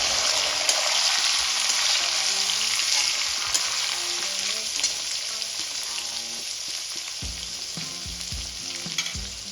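Tomato and ginger-garlic paste fry in a pan for Kashmiri chicken masala, giving a continuous close sizzle with faint stirring scrapes and clinks underneath, steady throughout and free of talk.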